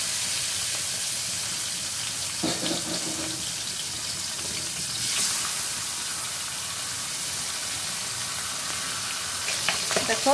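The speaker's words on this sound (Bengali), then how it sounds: "তো মাছগুলো ভেজে নিচ্ছি।" Pieces of chital (featherback) fish fry in hot oil in a pan, giving a steady, close, loud sizzle with a few brief clatters and splashy bursts along the way.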